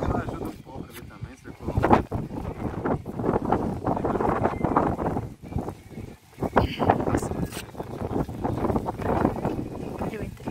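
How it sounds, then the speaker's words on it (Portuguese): Strong wind buffets the microphone at a beach campsite at Praia da Capilha while charcoal is being lit for a barbecue, a loud, continuous gusty roar with brief lulls, and people talk over it. "Muito vento"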